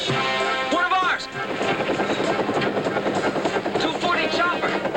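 A helicopter flies over a canyon, heard as a loud, continuous rotor and engine roar that fills the whole stretch with steady intensity, with voices briefly audible over it.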